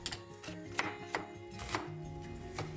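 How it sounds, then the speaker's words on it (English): An onion diced with a knife on a board for lentil soup, with a run of sharp, irregular chops in steady succession, close and clear, over a low hum of background music. "First she is dicing the onion."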